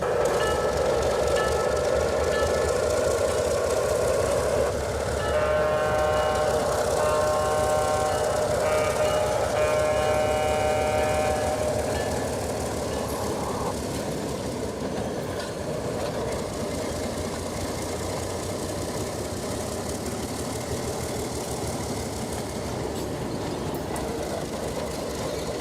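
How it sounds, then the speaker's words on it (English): A two-car model train pulled by Alco diesel locomotives rolls along the track through a crossover toward the main line, with a steady engine drone, rail rumble and a horn-like tone in the middle before it fades slightly. "After the dispatcher reverses the crossover turnouts and clears the signal, the 2-car train proceeds to the main."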